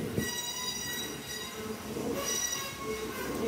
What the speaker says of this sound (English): There's the little choo-choo train things that guided us.